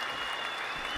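An audience claps at a live music session: a brief, even wash of applause, fairly soft and distant.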